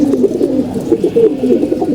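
Male pigeons coo in a continuous, rolling sequence of soft, throaty calls, close and clear, with no voices.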